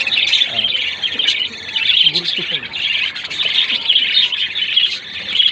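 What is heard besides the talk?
budgerigars chirping while eating corn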